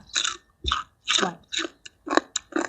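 Close, wet chewing of sticky rice with a Thai spicy tray salad of shrimp, squid and shellfish, in about seven short bursts with brief pauses between bites.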